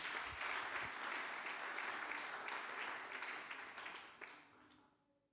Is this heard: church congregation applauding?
yes